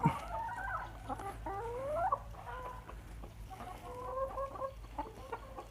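Chickens cluck repeatedly on a farm where laying hens are kept, their calls rising and falling over steady low background noise with no one speaking.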